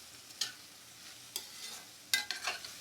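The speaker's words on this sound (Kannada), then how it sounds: "ಫಸ್ಟ್ ಆಯಿಲಲ್ಲಿ ಫ್ರೈ ಮಾಡ್ಕೊಳ್ಳಿ" Okra (bhindi) frying in oil in a pan, faint sizzle with a few sharp scraping stirs of a spoon in short bursts.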